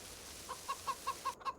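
Chickens clucking in the video game Farming Simulator 25, a series of about six short, evenly spaced clucks against a steady ambient farm background.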